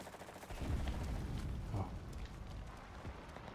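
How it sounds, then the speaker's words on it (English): Artillery fire and gunfire in a battle in the video game Enlisted rumble heavily throughout, with deep booms and dense, overlapping shots in a continuous, chaotic wash of combat noise. "Sounds like they're calling artillery."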